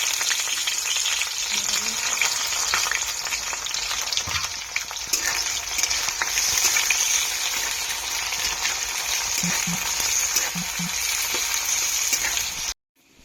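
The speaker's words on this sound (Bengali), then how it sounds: "এবার কুচানো পেঁয়াজগুলো দিয়ে দিলাম।" Chopped onions fry in hot oil for a spicy duck curry, a loud, close, steady sizzle with occasional stirring scrapes, cutting off abruptly at the end.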